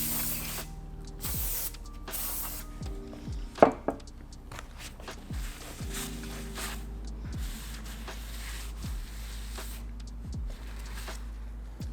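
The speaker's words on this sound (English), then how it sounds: "spray it down with brake cleaner, wipe it off." Brake cleaner sprays onto a Honda K24 intake part in a garage, with several short hissing bursts early on and quieter scraping and wiping noises after them.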